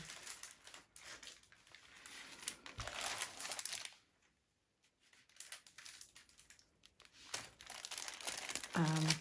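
A sheet of patterned scrapbooking paper is handled close by, giving soft crinkles and rustles that pause briefly midway before resuming.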